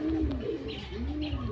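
A racing pigeon arriving at the loft after a race coos in low, rolling repeated calls, close and clear over a steady background hum.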